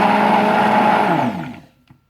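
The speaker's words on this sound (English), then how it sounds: "Mix it a little bit with the stick blender." A stick blender whirs steadily as it mixes cold process soap batter, a loud close motor drone that winds down and stops after about a second and a half.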